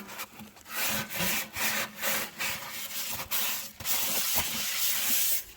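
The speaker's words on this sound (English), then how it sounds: "I just took whatever was left over on the Scrub Daddy and scrubbed that little drain stopper" A Scrub Daddy sponge scrubs a kitchen sink drain stopper, giving a close, rhythmic rasping rub in repeated strokes of about half a second, followed by a steadier scrub at the end.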